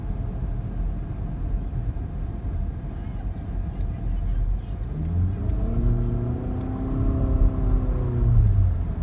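A 2019 Infiniti QX50 accelerates on the road, its engine note rising in pitch through the gears over a low cabin rumble, with people talking inside.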